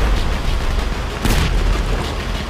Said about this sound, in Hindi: ये देखें अभी आर्मी वालों का टैंक हम पे कैसे हमले कर रहा है